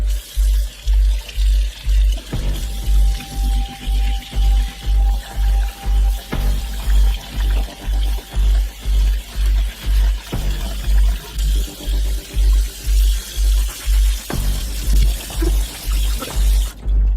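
Water running into a sink to rinse out YZ250 motorcycle radiators, a loud, splashing pour with a rhythmic low pulsing throb repeating steadily, close up and without talking.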